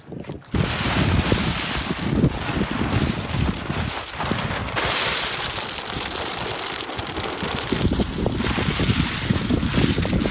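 Strong March wind on a small pecan farm buffets and roars steadily, with gusty rumbling throughout and no voices.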